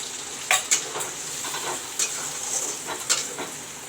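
Masala sizzles and crackles steadily in a hot pan, with occasional scraping stirs and clinks of a utensil against the metal.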